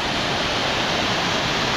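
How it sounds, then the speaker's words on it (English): Water flows in a steady, dense rush, a continuous broadband wash with no pauses, close and fairly loud, with no voices. "I love the sound from the waters"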